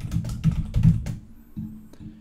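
Quick, close typing on a computer keyboard, a brisk run of clicks lasting about a second before it stops, with a couple of isolated taps afterward.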